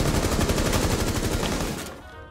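Rapid automatic gunfire in the video game Rainbow Six Siege, a loud close burst of evenly spaced shots lasting about two seconds before trailing off.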